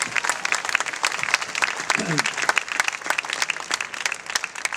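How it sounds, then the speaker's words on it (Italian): Crowd applause at an Italian artisan fair interview event, a brisk scattered clapping from an audience heard fairly close, mixed with some voices. "Bel applauso."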